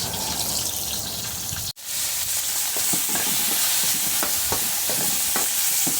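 Onions sautéing in a pan as the base of a pork sauce, a steady close sizzle and stir with a brief sharp break early on, then continuous frying with scattered crackles.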